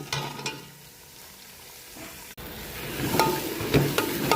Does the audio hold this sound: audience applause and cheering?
no